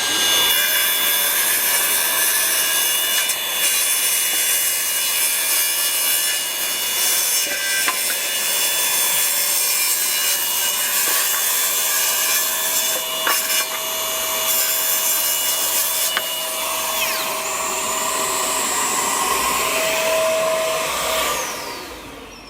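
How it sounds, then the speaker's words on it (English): A power saw cuts through wood with a Makita 40v vacuum attached, giving a loud, continuous high whine and rasp that runs steadily for about twenty seconds before tailing off. "We'll do a cut, we'll get some dust in here and we'll suck it back out with the new vac."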